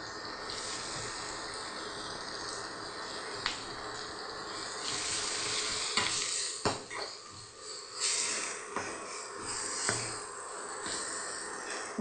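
Green chilies and onions sautéing in a pan, a steady soft sizzle and hiss with occasional sharper crackles and spits, fairly faint and continuous with no talk over it.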